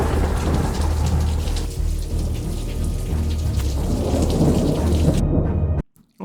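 A heavy thunderstorm in Britain, steady loud rain pouring down with deep rolling thunder rumbling throughout, cutting off abruptly near the end.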